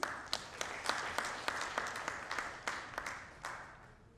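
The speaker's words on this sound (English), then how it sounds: "A huge round of applause for him" Fairly quiet applause from a conference audience at a cyber security congress inauguration, with distinct individual claps standing out in an uneven rhythm over a soft wash of clapping.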